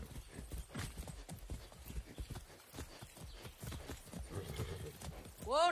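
Horse hooves clip-clop in a quick, close rhythm in the video game Far Cry 6, ending with a loud horse whinny.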